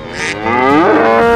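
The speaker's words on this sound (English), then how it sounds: "Cow." A cow gives one loud, close, drawn-out moo that rises and swells toward the end, with no other sounds around it.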